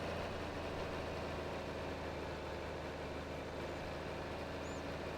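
A John Deere 4020 tractor engine in Farming Simulator 22 drones steadily under load while baling, a constant low rumble with no talk.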